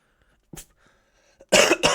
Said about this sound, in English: This nasty cough has not went away yet.